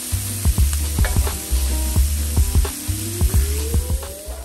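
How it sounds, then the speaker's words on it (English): Vegetables such as peas, carrots, bean sprouts and mushrooms sauté on a Blackstone griddle with a loud, steady sizzle, overlaid by a rhythmic series of metal spatula scrapes and taps. "So now I got all my vegetables nice and sauteed."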